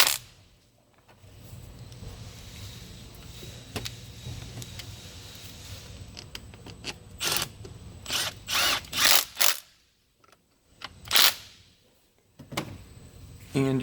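Power drill or driver tightening thermostat housing bolts on a Jeep 3.6L engine at the front timing cover, several short loud whirring bursts in quick succession with brief pauses, close up and alone.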